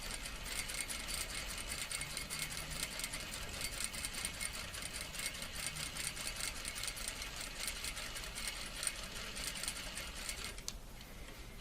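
A sewing machine runs steadily, stitching a plain seam along a folded fabric edge. A continuous, fast mechanical whir holds at an even level for the whole stretch and eases off briefly near the end.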